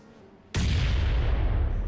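Sudden loud burst of gunfire in PUBG Mobile, a sharp blast followed by sustained heavy, rumbling shooting that continues for over a second without talk.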